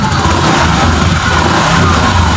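A Honda Vario 125 scooter with stuttering and overheating trouble is revved close by, a steady droning engine roar that holds high, loud and continuous with no voices.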